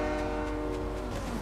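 A train horn in the video game Fortnite sounds as a steady, moderately loud sustained tone over a rumbling background for about a second and a half, with no talking.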